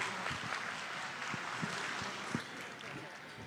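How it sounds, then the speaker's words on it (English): Audience applause at a county fair goat and sheep show, a steady wash of clapping that stays moderately loud and slightly distant throughout, with an announcer's voice over it. "let's give all these kids in the second class of crossbreeds a big round of applause."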